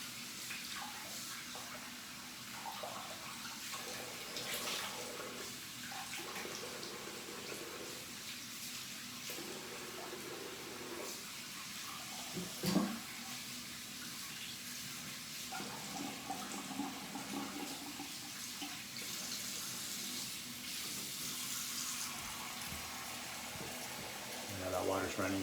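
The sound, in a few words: water running from a sink tap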